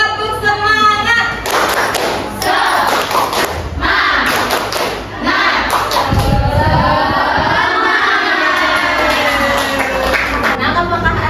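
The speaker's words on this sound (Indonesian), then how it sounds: "Ayo semuanya tepuk semangat." A third-grade class performs a rhythmic spirit clap, the children's hands landing in loud patterned bursts of claps and thumps mixed with chanting and shouting voices.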